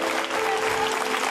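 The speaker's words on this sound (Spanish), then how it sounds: "Por favor, un gran aplauso." Dense, steady audience applause fills a Mexicana Universal 2018 beauty pageant gala, a continuous wash of many hands clapping at even loudness from start to finish.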